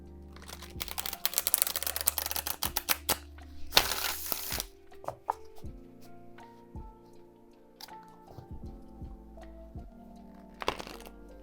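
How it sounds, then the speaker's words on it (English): Repeated quick riffling and soft slapping of tarot cards being shuffled, with crisp clicks and a longer burst of flutter in the middle; nobody speaks. "I'm gonna do a couple more shuffles so you can kind of see."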